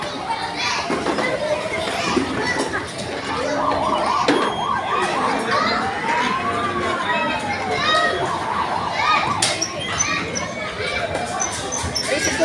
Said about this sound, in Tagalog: Bumbero.